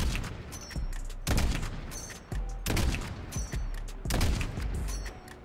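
Sniper rifles such as the HDR and Kar98k fire in Modern Warfare, four loud booming shots spaced roughly every one to one and a half seconds, each with a sharp crack and a rolling tail, plus faint mechanical bolt clicks between shots.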